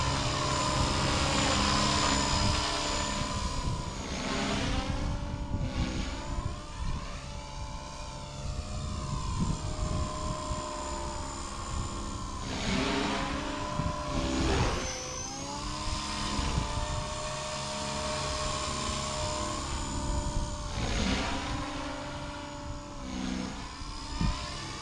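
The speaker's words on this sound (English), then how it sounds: "I forget this little helicopter doesn't have quite the power of like the 360." A small radio-controlled helicopter whines overhead, its high motor pitch repeatedly rising and falling as it manoeuvres, fairly loud and close.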